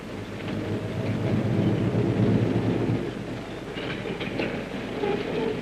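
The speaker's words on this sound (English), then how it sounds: "diesel shunt engines are taking over" Diesel shunting engines work a railway yard in Wellington, New Zealand, giving a loud, steady low rumble with rolling wagon noise that eases after a few seconds, then lighter clanks and squeals toward the end.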